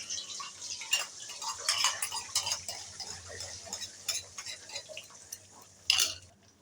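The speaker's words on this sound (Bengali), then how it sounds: "ডিমগুলোকে পুরো ভুজিয়া করে নেবো আমরা" Eggs scrambled in oil in a wok, stirred with a metal utensil: close, repeated clinks and scrapes against the pan in an uneven rhythm, with a sharper clatter near the end.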